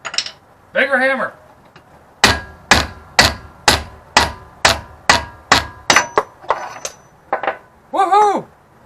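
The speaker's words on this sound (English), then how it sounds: "Bigger hammer." About a dozen loud, ringing metal blows from a bigger hammer drive out a rear wheel bearing from an independent-rear-suspension VW Beetle, landing in a steady rhythm with a voice speaking briefly before and after.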